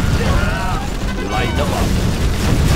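Booming explosions from an ordnance strike in the Command and Conquer Generals video game, a continuous loud rumbling barrage with layered blasts and whistling tones, mixed with game unit voice lines.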